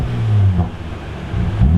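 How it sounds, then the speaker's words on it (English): A Volvo XC70 T6 engine with its muffler deleted revs to about 2,000 rpm with a deep, throaty rumble, rising twice in short bursts, loud and close. "can you do some 2K revs for me"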